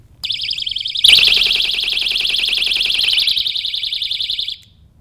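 An electronic alarm sound effect with a warbling, pulsing siren tone that jumps louder partway through, holds steady for several seconds, then cuts off abruptly.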